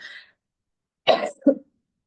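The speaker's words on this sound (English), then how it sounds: "I have a cough, y'all." Two sharp, close coughs, the first harsher and longer, the second short, after a brief trailing bit of voice and a moment of silence.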